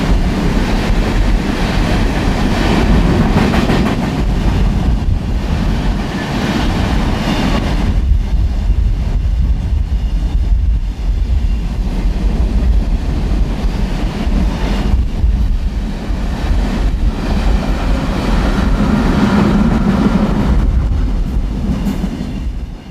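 Two empty BNSF and Union Pacific coal trains meeting in opposite directions in the Powder River Basin, a loud, sustained rumble of rolling freight cars with steady rail clatter and no talk.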